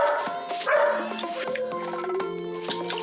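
A dog in the farming video game Stardew Valley barks and yips in quick, bright bursts over steady game background music.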